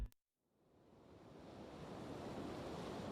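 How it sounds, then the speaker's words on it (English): Relentless waves pound the rugged coastline of Pitcairn as a broad, steady roar of surf that swells in loudness and continues without pause, with no voices over it. "just a rugged coastline pounded by relentless waves"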